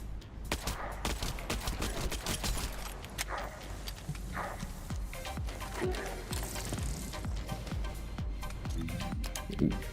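Rapid gunfire from a weapon in the shooter game The First Descendant, with dense clusters of sharp shots and clicks repeating throughout at moderate level, with no talk.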